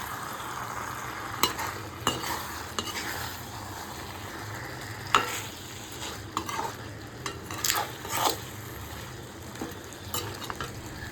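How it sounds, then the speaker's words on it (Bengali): Fried hilsa fish heads stirred into greens in a frying pan, with soft oily sizzling under sharp scrapes and clinks of a spatula against the pan in irregular bursts, close and fairly quiet. "এবার আমি এর মধ্যে আগে থেকে ভেজে রাখা ইলিশ মাছের মাথা আর লেসটা দিয়ে দিলাম দিয়ে ভালো করে মিশিয়ে নিচ্ছি"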